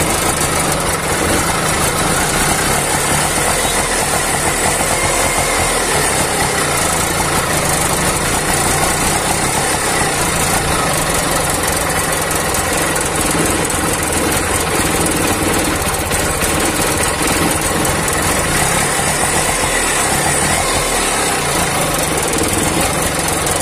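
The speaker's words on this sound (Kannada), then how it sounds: "ಗಾಡಿ ಮಧ್ಯೆ ಮಧ್ಯೆ ರೇಸ್ ತಗೊಳ್ತಾ ಉಂಟು" An auto rickshaw engine with a suspected accelerator cable or carburettor piston fault runs loud and close, a continuous dense mechanical drone with no one speaking.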